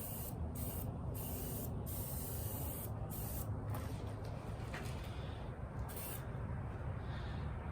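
A spray gun lays wet flake paint onto a car in a home garage, giving a steady, close, continuous hiss throughout with brief dips as the trigger eases.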